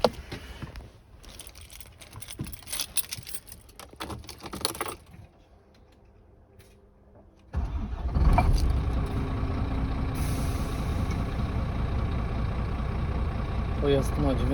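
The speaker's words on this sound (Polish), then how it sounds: "Silnik pracuje bardzo ładnie, równo, dynamicznie." A 2013 Scania R440 tractor unit with about 948,000 km starts abruptly partway through, after quieter clicking and handling noises, and then settles into a loud, steady, close idle that runs to the end.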